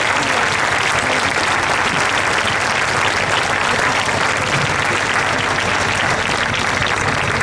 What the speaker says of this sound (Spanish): Así que un aplauso por todos ellos.